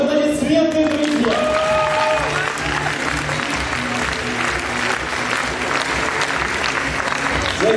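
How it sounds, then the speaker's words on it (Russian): An audience at a student debut event applauds as certificates are handed out, with steady, sustained clapping from many hands throughout and a brief voice near the start. "Ваши аплодисменты, друзья!"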